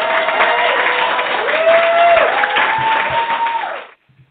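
Loud recorded cheering and applause play steadily for about four seconds as a podcast guest is brought on, then cut off abruptly into silence.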